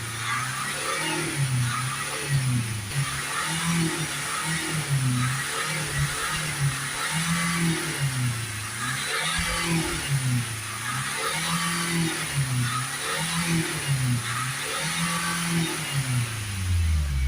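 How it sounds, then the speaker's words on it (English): A Renault Espace 2.0 dCi with a heavily blocked diesel particulate filter labours to rev, its engine note rising and falling in repeated stuttering surges. The sound is close and continuous, with no talking. "You can hear there the vehicle is struggling to rev up"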